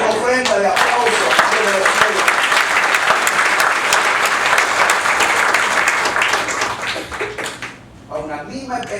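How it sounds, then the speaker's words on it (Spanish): Sustained applause from a church congregation, dense and loud throughout with some voices mixed in, easing slightly near the end. "a su nombre podemos dar una ofrenda de aplauso"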